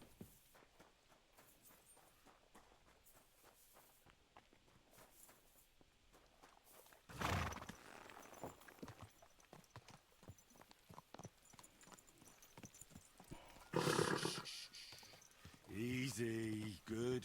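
Steady clip-clop of horse hooves walking at an even pace in the game Kingdom Come: Deliverance 2, with short loud bursts and a voice breaking in now and then.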